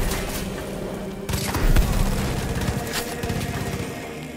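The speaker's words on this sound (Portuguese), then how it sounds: "Sorte que deu tiro na cabeça do cara." Gunfire in the video game Far Cry 5, a dense volley of shots and booms running throughout, louder in the middle, with no talk over it.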